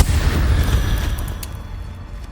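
A fiery Incendio spell blast in Hogwarts Legacy gives one sharp, loud boom that rolls into a dense, rumbling burst and fades over a couple of seconds.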